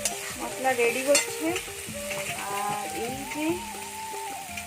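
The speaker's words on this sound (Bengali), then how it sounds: "তো চলো পুরিটা ভাজি" Puris (luchi) frying in hot oil, a steady bubbling sizzle with stirring under a background of music and a brief spoken word.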